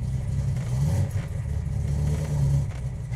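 A 1972 Dodge Charger 400 Magnum with a 4-speed runs steadily, a deep low engine rumble with slight pulsing, close and loud with no talking.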